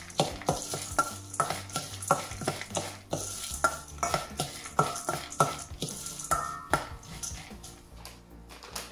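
Mixed nuts stirred with cardamom powder in a pan, a spoon scraping and clinking in a steady rhythm of repeated strokes, close and clear with a light sizzle underneath.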